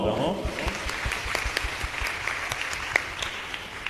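Church congregation clapping together during a worship service, a dense steady patter of many hands applauding at close range, with a voice speaking over it.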